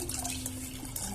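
Milk pouring into a pot for payesh in a small home kitchen, a brief steady liquid stream with a faint splashing trickle, close and alone.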